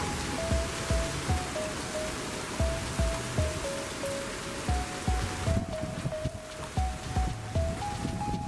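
Steady rain falling in Naumovka after a hurricane, a continuous broadband hiss with soft low thumps and a faint wavering tone running through it, with no voices.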